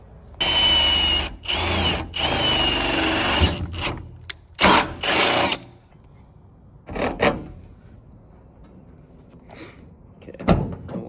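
Power drill boring a hole into the steel body of a Ford Transit van while mounting a driver-side spare tire rack bracket, delivered as several loud, close bursts of whine with short pauses, followed by quieter clunks and handling noises.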